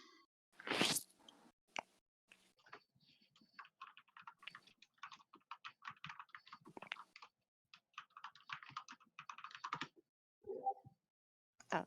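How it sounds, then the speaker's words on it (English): Quiet, irregular clicking of keys on a computer keyboard, coming in short bursts and pauses over several seconds, faint and close, with no voices. "Was that him typing?"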